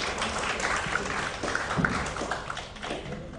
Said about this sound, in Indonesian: Sekali lagi kita berikan aplaus yang meriah yuk